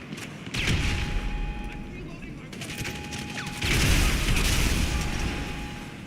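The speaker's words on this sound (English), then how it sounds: "When in doubt, use grenades." Grenade blasts and gunfire in GTA 5 Online, with two long loud surges of explosive rumble and rapid shots separated by a calmer stretch, heard close and without talk.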